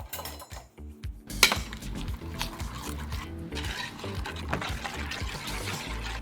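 Thick buttermilk pours and glugs onto chicken in a dish, with clinks of a utensil against the bowl and a brief louder clatter.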